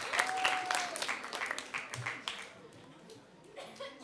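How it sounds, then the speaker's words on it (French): An audience at a children's Christmas show claps and cheers, a moderate patter of applause mixed with shouts and voices that fades toward the end. "On acclame très très très fort."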